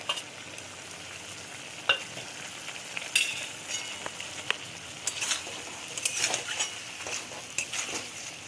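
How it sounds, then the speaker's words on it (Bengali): Ginger-garlic paste frying in a pan for Pakistani chicken reshmi, a steady sizzle broken by sharp spatula scrapes and clinks that grow busier toward the end, close up with no speech. "আদা রসুন পেস্টটা দিয়ে আবার একটু ভাজতে হবে"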